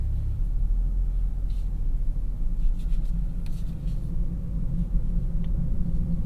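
Steady low road rumble and engine drone from inside a 2022 Genesis G70 Sport while driving, captured with binaural microphones in the cabin; a constant, fairly loud hum with faint light ticks and rattles above it, no talk.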